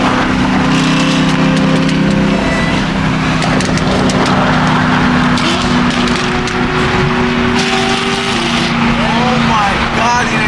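A Dodge Hellcat roars while racing on the street alongside a BMW M3, loud engine drone and rising revs filling the whole stretch as people talk over it nearby.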